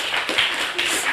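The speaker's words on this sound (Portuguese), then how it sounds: "salva de palmas para o Júlio" Brief burst of audience applause at a software testing meetup talk, a dense patter of many hands filling the room for about a second.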